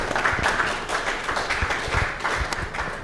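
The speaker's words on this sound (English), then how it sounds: "Please, a round of applause for him." Audience applause for a speaker at a panel session, a short burst of steady crowd clapping with no voices over it.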